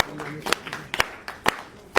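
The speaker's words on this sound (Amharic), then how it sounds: "እስኪ ጭብጨባ ሁላችን" A few people clap at a small gift celebration, four or five sharp separate claps spaced about half a second apart, close and sparse rather than a full crowd.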